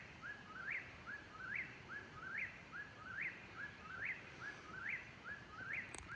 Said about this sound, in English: That is one of my favorite birds. It's a whippoorwill.